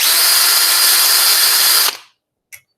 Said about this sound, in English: while pulling, you're going to want to just kind of fire up your drill for a second